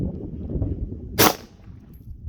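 A Canik pistol firing 124 grain ammunition over a chronograph gives a single sharp, loud shot that stands out from quiet outdoor background noise.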